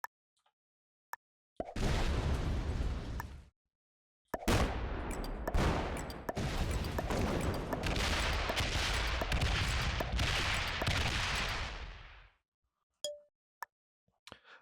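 Artillery fire in a Risk video game, several long bursts of rapid popping blasts separated by brief silences, with a few isolated clicks before and after.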